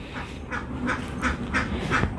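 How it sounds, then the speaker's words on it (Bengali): Four domestic ducks quack as they come to be fed, a run of repeated nasal quacks in a fairly even rhythm, close and moderately loud. "এই যে আমার চারটা হাঁস তো চারটাই চলে আসছে"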